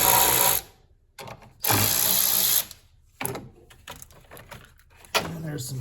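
A ratchet loosens the 10 mm battery terminal bolts on a 2014 Honda Accord 4-cylinder, heard as several short, close bursts of rapid clicking separated by quiet gaps.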